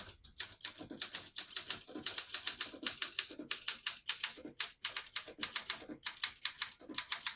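Keys strike on a 1969 Olympia SM9 portable typewriter, printing in red ribbon; crisp, close metallic clacks come in a quick, even rhythm of typing with brief pauses, and no one speaks.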